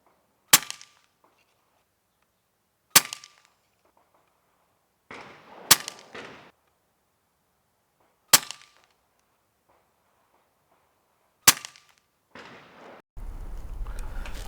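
An Umarex Notos Gen 2 air rifle fires five sharp, separate shots a couple of seconds apart, each a crisp crack with a short tail, followed at the end by a steady rushing noise.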